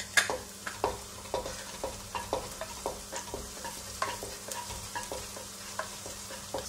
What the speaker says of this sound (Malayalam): ചോപ്പ് ചെയ്ത് വെച്ചിരിക്കുന്ന വെളുത്തുള്ളി ആഡ് ചെയ്യാം